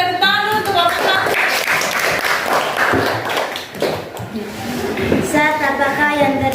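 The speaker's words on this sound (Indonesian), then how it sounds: "berikan tepuk tangan dulu untuk kelompok 1" A school class claps for a student group in a loud burst of applause, mixed with voices talking and calling out.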